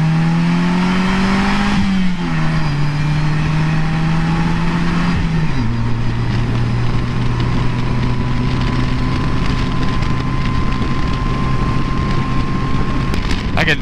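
A 2017 Polaris Slingshot SLR three-wheeler accelerates hard, its engine climbing through gear changes then holding a steady high drone, with strong wind rush over the microphone throughout.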